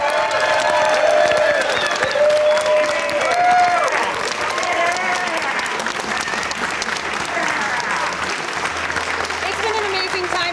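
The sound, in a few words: audience applause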